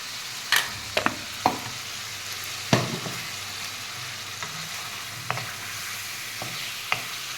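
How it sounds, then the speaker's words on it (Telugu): Chicken pieces cooking with ground masala paste and tomatoes in a pan, a steady low sizzle broken by several sharp spoon scrapes and knocks at irregular intervals, close and with no voices. "ఇప్పుడు మసాలా పచ్చి వాసన పోయే వరకు వేగనిద్దాం"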